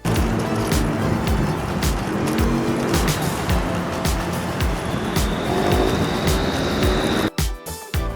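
Motur Trimax Quickfold electric scooter ridden outdoors at speed, a steady loud roar of wind and road rumble with a rising motor whine, cutting out abruptly near the end.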